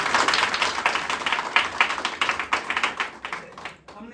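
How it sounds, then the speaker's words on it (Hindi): A group in a room claps in bursts of quick, uneven hand claps, loud and close, thinning out toward the end with a brief pause. "ताली अगर बजाना है तो ताली की तरह बजाओ"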